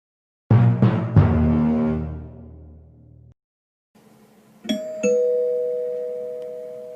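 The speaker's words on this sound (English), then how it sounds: "After Jarg rang Greg's doorbell, he was jealous." A doorbell gives a ringing ding-dong chime that decays slowly, then after a brief silence a second, thinner ring sounds with a sustained tone under faint background hiss.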